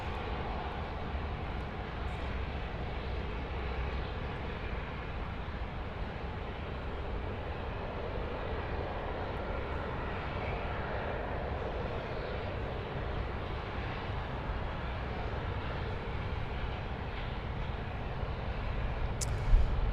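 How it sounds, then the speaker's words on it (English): A Dash 8 turboprop on final approach to runway 16 right at Sydney Airport drones as a steady, fairly distant engine rumble, growing slightly louder toward the end. "Another Dash 8 on finals here"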